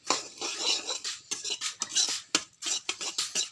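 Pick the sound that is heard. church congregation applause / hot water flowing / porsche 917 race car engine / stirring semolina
stirring semolina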